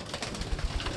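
Racing pigeons kept for competition coo softly in a brief burst of low, rounded calls close by, with no talking.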